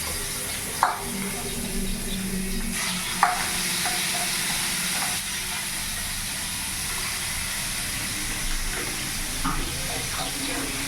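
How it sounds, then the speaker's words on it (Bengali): Fish coated in salt and turmeric sizzling and frying in hot oil in a pan, a constant hiss with occasional louder pops and clinks of utensils. "মাছটা যতক্ষণ এখানে ভাজা হোক"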